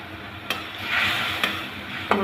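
Prawns fry in a pan with spices while a utensil stirs them, giving a steady close sizzle broken by three sharp scraping clacks against the pan.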